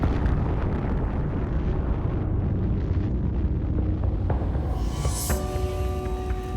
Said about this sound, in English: the United States dropped atomic bombs on the Japanese cities of Hiroshima and Nagasaki